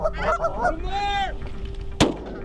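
Canada geese honk nearby in a quick run of calls, with one longer drawn honk, then a single sharp gunshot cracks at the end on a goose hunt.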